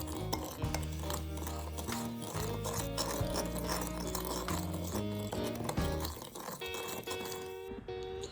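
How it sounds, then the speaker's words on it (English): Brunswick stew being stirred in a pot, a steady scraping and sloshing of utensil against metal running throughout over a bed of background music. "Make sure you stir it around real good so that everything gets even."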